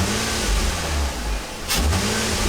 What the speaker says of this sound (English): Let me give it a few revs. See how she sounds. There goes the intake.